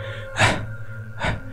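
Two sharp gasping breaths, close and alone, spaced about a second apart, like a child panting hard after running.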